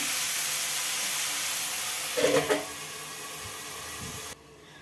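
Chicken mango curry steams under a covered pot lid in an Andhra-style home kitchen, giving a steady close hiss. A short clatter of the lid or pot comes partway through, and the hiss cuts off abruptly near the end.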